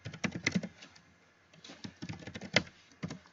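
Quick bursts of typing on a computer keyboard while entering a node name in Unreal Engine, close and clear clicks in two short runs separated by a brief pause.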